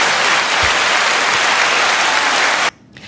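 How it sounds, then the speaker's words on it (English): Audience applause at the close of a real-estate talk, a dense, loud, steady wash of clapping that holds for under three seconds and then stops abruptly, leaving near silence. "I want to give Pedro an applause"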